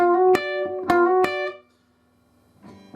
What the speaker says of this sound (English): He does this little double stop thing on the 1st and 3rd string